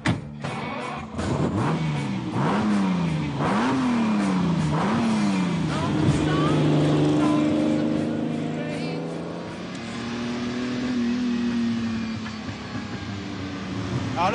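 A 455-horsepower 5-litre V12 in a 25th Anniversary Lamborghini Countach revs up and down in sharp rising sweeps, then settles into a loud, sustained drone, close by and continuous throughout.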